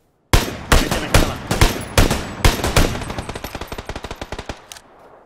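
Automatic weapon fire in PUBG (PlayerUnknown's Battlegrounds): several loud, sharp bursts open the passage, then a steady rapid string of shots slowly fades toward the end, with no talking over it.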